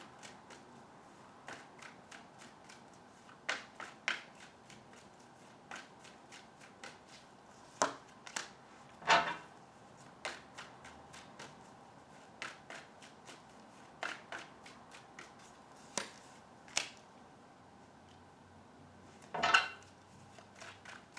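Tarot cards being shuffled in repeated bursts of crisp riffling and slapping, spaced irregularly, close and quiet with no talking.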